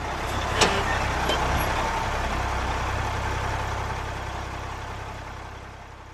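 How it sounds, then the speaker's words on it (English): A bus engine rumbles steadily with broad road noise as it arrives, a continuous fairly loud drone that fades slightly toward the end, with one brief click near the start. "Then the bus came,"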